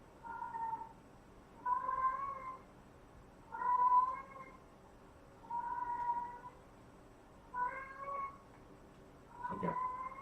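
A pet cat meows six times in a slow, evenly spaced series, each cry drawn out and moderately close over a quiet room hum, the last one ending in a sharp knock.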